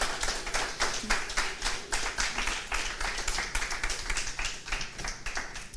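A church congregation applauds during a morning worship service, dense rapid clapping from many hands that carries steadily and loudly throughout with no pauses.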